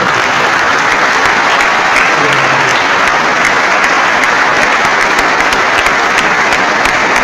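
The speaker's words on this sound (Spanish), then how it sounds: "Recibamos al hermano con un fuerte aplauso." Loud, dense audience applause at a Christian gathering, steady and sustained throughout with no break, close and filling the space.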